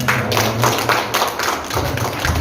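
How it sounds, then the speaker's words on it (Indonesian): A crowd claps for a school during a talk, the dense patter of many hands spread evenly across the whole short span, fairly close and steady with no voices over it. "Tepuk tangan dong untuk sekolah kita ini"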